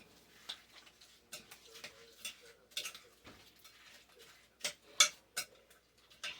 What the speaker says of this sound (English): you're just going to stir this right on in there